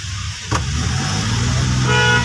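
Cars and other vehicles sit rumbling in a traffic jam on the Kaghan mountain road, with a steady low engine drone, a short sharp knock early on, and a car horn honking near the end.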